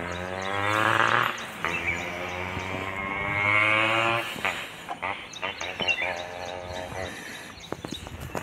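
A Hallikar stud bull lows in long, deep, resonant moos, two sustained calls close to the microphone, followed by rustling and handling noise at the end.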